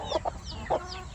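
Chickens on a small family farm, with hens and roosters kept near the pigs, give three short clucks: two close together, then one more after a pause, over a low steady background.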